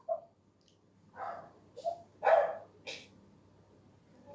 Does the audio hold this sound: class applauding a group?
no